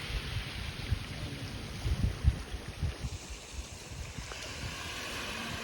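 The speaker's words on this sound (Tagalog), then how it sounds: "Yan, yung ingay ng tubig, yun yung marinig mo lang, alon." Soft water lapping and washing in low, irregular surges, fairly quiet, with a faint high whine at the start and no talking.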